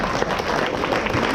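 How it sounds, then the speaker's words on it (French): Studio audience at a French TV game show bursts into a brief, dense wash of steady applause, close and even for about a second and a half. "Et on applaudit Baptiste."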